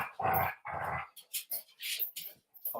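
Dogs growling and playing together under a table, a run of close, rough growls and grumbles in short bursts with small yips, no talk over them.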